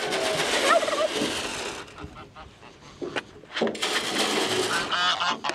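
Geese honk loudly and repeatedly, a noisy overlapping flock close by, with a brief lull midway before the honking swells again.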